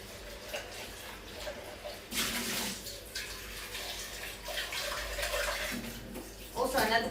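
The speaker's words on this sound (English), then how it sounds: "So I'm just gonna give this a quick rinse here." Tap water runs over food being rinsed in a sink, splashing in uneven bursts that swell and fade, fairly quiet and close, while a voice speaks over it.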